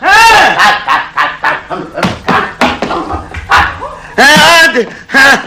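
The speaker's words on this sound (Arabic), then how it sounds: "مش شايف الكلب طالع وراك ولا حاجه؟" Dog barks in an Egyptian Arabic radio comedy, several sharp loud barks in bursts mixed among lively, close-miked dialogue between a father and son.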